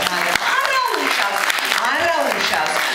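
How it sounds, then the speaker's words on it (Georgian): A short burst of clapping from parents and guests at a children's school performance, dense and fairly loud, mixed with voices throughout. "მართალია ტაში ხანმოკლეა ხოლმე"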